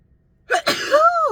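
A single close, loud sneeze: a short sharp burst followed by a drawn-out voiced tail, alone in a quiet room.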